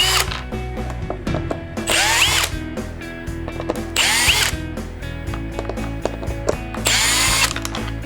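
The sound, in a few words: power drill removing screws from Tacoma console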